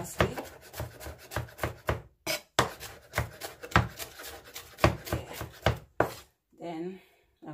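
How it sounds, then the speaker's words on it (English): A knife chops parsley on a wooden board for a steamed bok choy dish, a rapid series of close, crisp rhythmic strikes with brief pauses, then a voice talks at the end. "So now I'll just cut up some parsley."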